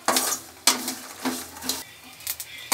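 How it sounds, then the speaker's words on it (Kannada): Lotus seeds (makhana) roast in a pan and are stirred. A utensil clinks and scrapes against the metal in several close, separate strokes, with a soft sizzle beneath them. "ಇನ್ನು ಚೆನ್ನಾಗಿದ್ದ ರೋಸ್ಟ್ ಮಾಡ್ಕೋಬೇಕು"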